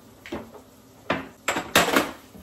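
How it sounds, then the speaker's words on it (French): Spice containers are put away in a kitchen cupboard, making four separate clattering knocks of jars and a cupboard door, each sharp and close with short gaps between. "Je suis en train de ranger les épices alors que je les ai même pas mis dans l'oignon."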